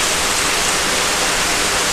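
Heavy rain and floodwater rush through a street in Pune, a loud, dense and unbroken roar of falling and flowing water with no voices over it.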